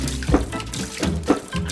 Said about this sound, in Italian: Sto buttando quattro gocce d'acqua, così faccio il caldo umido